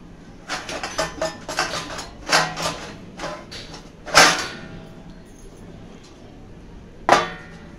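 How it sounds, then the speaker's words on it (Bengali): A metal lid goes onto a cooking pot in a home kitchen where a fish dish simmers gently: a run of light clattering clinks and taps, then two sharper metallic knocks as the lid settles, close by. "তার জন্য আমি এটাকে একটু ঢেকে দিচ্ছি"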